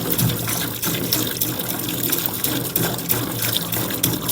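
Water gushes continuously into a 20-gallon parts washer tank, a loud, close, turbulent rush with steady splashing and no voices.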